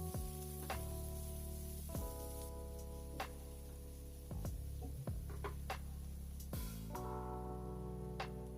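Chopped garlic cloves and onion sauté in hot oil in a pan for a dry potato and okra dish, a steady close sizzle with occasional brighter crackles and utensil clicks, no talking.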